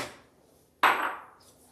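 A kitchen knife slices through an onion on a cutting board with one sharp, close chop followed by a brief fading scrape, with no one talking.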